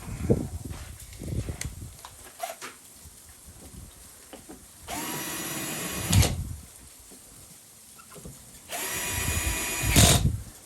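A power drill drives screws while setting up a Westinghouse iGen2500 generator, whirring in two short bursts, each a few seconds long with a rising whine, separated by quiet handling clatter.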